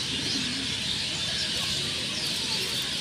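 Pigeons coo softly amid a hissy, noisy background, with a few low throaty calls and faint chirps nearby.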